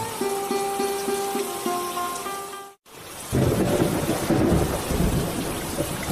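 A cartoon scene: a rumble of thunder breaks out after a short tonal musical passage, then heavy rain hisses and patters densely and loudly close by.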